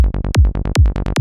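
Sylenth1 synth bass line from a psychedelic preset driving steady repeated notes, with a deep kick drum thumping twice beneath it, loud, tight and rhythmic, no voices.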